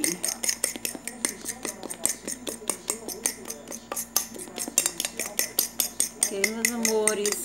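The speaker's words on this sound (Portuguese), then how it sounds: "Então vamos mexer novamente." Spoon clinking and scraping against a bowl while stirring crepioca batter made with flocão and cheese; quick, close, rhythmic taps, with a voice murmuring softly near the end.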